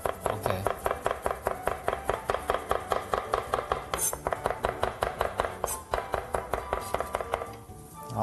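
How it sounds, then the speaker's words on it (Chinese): Knife chopping unpeeled ginger finely on a cutting board: rapid, even, close knocks repeating steadily without pause. "姜不用去皮， 对，我大概切一下啊，切碎"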